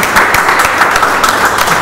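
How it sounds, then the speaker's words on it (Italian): A studio audience on an Italian television music show gives loud, dense, continuous applause, close and steady throughout with no talking. "Facciamo un applauso."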